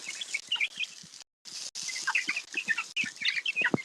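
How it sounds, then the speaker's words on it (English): Chickens cluck and chirp in short, irregular bursts close by, with scattered birdsong mixed in and a brief break in the sound partway through; no one speaks. "Yep, those are chickens."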